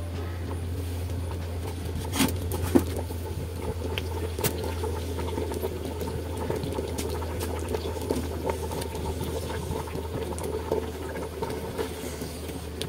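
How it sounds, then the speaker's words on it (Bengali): Milk simmering toward a boil with dudh puli pitha dumplings in the pot, giving a low steady bubbling and faint patter that runs evenly throughout with no voices. "আস্তে আস্তে বলক উঠে যাচ্ছে"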